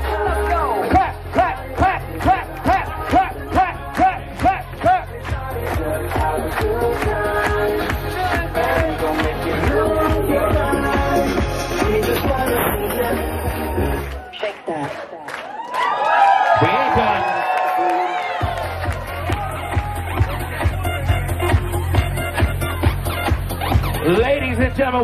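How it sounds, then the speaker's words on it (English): Wedding reception crowd clapping along to a beat, rhythmic claps over loud thumping dance music with cheers and a DJ voice, the music briefly cutting out mid-clip before resuming. "clap to the beat."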